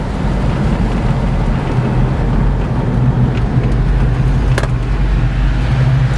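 A Mercury Cougar XR7 coupe with a Cobra Jet V8 and four-speed manual drives on the road with a loud, steady engine roar and wind noise, heard from inside the car.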